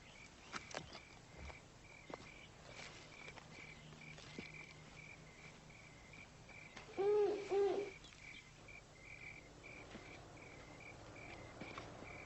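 An owl gives a short, clear pair of hoots partway through a quiet night, while crickets trill softly and steadily in the background throughout.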